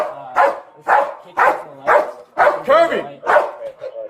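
A Sarasota police canine barks repeatedly and loudly nearby, a steady run of about seven sharp barks, with someone shouting over them.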